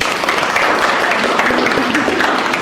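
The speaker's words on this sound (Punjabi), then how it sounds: "ਜ਼ਰੂਰ ਤਾੜੀ ਲਾਈਏ ਸਾਰੇ ਬਾਈ" A burst of steady applause from a crowd, dense and continuous for a few seconds.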